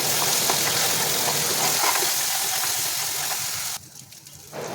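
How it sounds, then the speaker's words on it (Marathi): Ground masala paste sautés in hot oil in a village-style kitchen, giving a steady close hiss and sizzle that fades and drops away sharply near the end. "त्यानंतर वाटण टाकलं आणि वाटणही छान तेलामध्ये परतवून दिलं"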